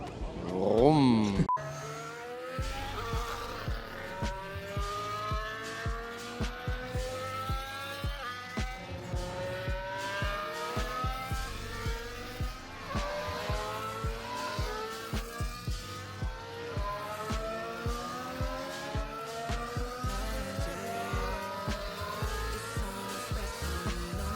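Formula 1 cars in the sprint race at the Belgian Grand Prix at Spa pass one after another, their high engines rising and falling in pitch as each goes by, heard from trackside at moderate distance in a steady stream.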